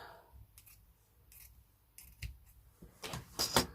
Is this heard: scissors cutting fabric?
yes